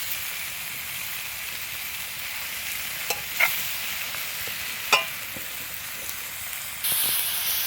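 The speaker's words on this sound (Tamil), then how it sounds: "இதை நல்லா கிளறி விட்டுடலாம் இது கூட நம்ம முக்கால் கிலோ கிரிராஜா சிக்கனை சேர்த்துக்கலாம்" Three-quarters of a kilo of Giriraja chicken fries over high heat in a pan, giving a steady close hiss punctuated by a few sharp scrapes of stirring, with a louder rush of sizzle at the very end.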